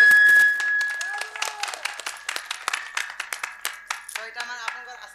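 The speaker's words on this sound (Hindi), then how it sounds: "तो भल लागला बोले ताली मारबे" Stage magic show audience breaking into applause, a dense run of many hands clapping close by that swells and keeps going, with a faint sustained tone running underneath.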